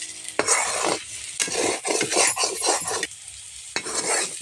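Maggi noodles with their spice mix stirred in a pan, quick bursts of scraping and sizzling from a spatula working through the noodles, close and fairly loud, with short pauses between strokes.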